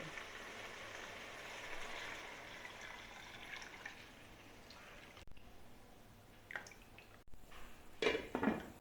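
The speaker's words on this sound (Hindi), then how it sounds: "हम इसमें 4 गिलास यखनी डालेंगे" Mutton stock (yakhni) poured by the glassful into a pot of browned mutton for white pulao, with faint, close liquid splashing in separate pours and a few metallic pot clinks near the end.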